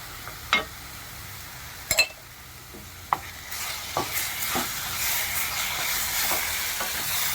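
Apple halwa sizzles in ghee in a pan while a spoon stirs it, with a steady frying hiss and several sharp clinks of the spoon against the pan.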